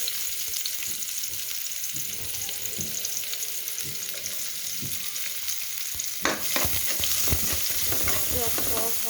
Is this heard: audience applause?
no